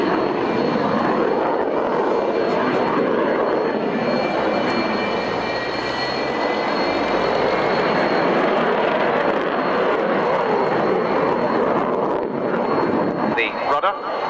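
A display aircraft flies a roll at Yeovil Airshow in 1996, making a continuous loud engine roar that swells and holds, with commentary over it.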